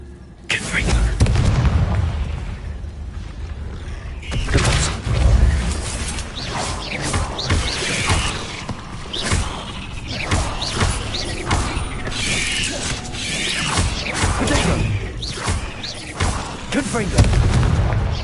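Repeated fire-spell blasts and booming impacts from Hogwarts Legacy combat against spiders in a house, dense and continuous over game sound, with a voice casting spells throughout.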